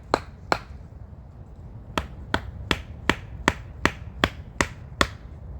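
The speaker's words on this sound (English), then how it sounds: "hammer it with the back of the hatchet" Hatchet back striking wood as a hammer, eleven sharp close knocks at a steady rhythm after two opening blows, over quiet outdoor background.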